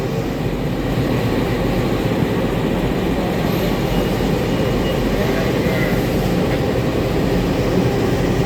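The Sangkuriang passenger train shunts, heard from inside as a steady, loud rumble and broadband rolling noise that runs unbroken throughout, with possible faint talk beneath.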